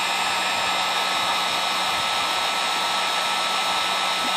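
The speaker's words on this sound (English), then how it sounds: "this is my heat gun" Heat gun blowing hot air over foam for a Gothic church Halloween prop, a steady loud broadband whoosh with a constant hum, running nonstop alone for the whole stretch.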